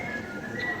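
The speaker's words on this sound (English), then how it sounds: "who could whistle without moving his teeth" A person whistles a single thin, steady note while keeping their teeth still. It is brief and quiet, with no other sounds.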